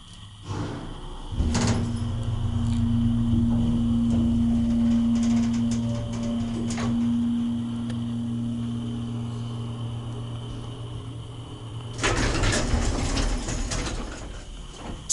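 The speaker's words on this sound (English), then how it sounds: "Listen to this motor." A 1981 Otis hydraulic elevator motor in a downtown Houston building starts up with a thump and settles into a loud, steady mechanical hum for about ten seconds before a louder rattling surge near the end.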